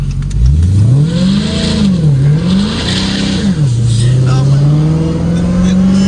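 A 2023 Dodge Challenger Hellcat Redeye Widebody engine revs loud and close, a deep roar that climbs, dips and climbs again before settling into a sustained high drone, with faint voices underneath.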